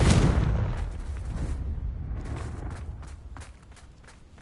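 A Confringo blasting spell in Hogwarts Legacy, a loud booming explosion at the start that fades into a rumbling decay, followed by faint scattered clatter.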